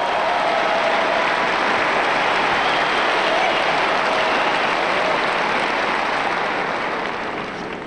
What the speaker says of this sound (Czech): takže si za to můžete zatleskat.